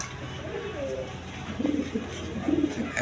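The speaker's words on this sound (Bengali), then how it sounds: "এক পেয়ার ইউরোপিয়ান লাহোরি কবুতর আছে" A pair of European Lahori pigeons gives soft, low coos close by in a short stretch, with a human voice also present.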